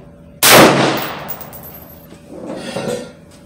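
A single IWI Tavor SAR bullpup rifle shot fired at a shooting range toward a 50-yard target, a sharp loud crack with a ringing decay and a fainter echo or rustle following.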